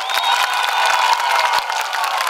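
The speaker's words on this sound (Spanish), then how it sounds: "Que se escuche en Elías Piña el aplauso de ustedes." Live audience on a Dominican television program set claps and cheers together in a sustained burst, a dense, fairly loud mix of applause and raised voices that eases slightly toward the end.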